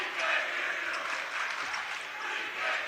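Parents in the stands at a boys varsity high school basketball playoff game cheer and clap in a steady, moderately loud roar of mixed voices and applause throughout.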